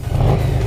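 A Harley-Davidson XG500 motorcycle engine revs briefly and loudly up close, a steady low rumble with a slight rise in pitch.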